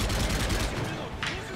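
Rapid bursts of gunfire from Call of Duty MW3 crackle in a dense volley for under two seconds, with a player's voice talking over them.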